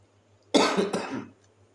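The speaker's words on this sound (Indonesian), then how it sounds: "Masih batuk sih." A single hoarse cough bursts out, followed by a second rougher one, in an otherwise quiet room with a low background hum.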